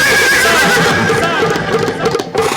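Horse neighing as a story sound effect, a long loud whinny running through the whole clip over a dense background with faint hoof clatter, as a king rides out on horseback toward his farmers' fields.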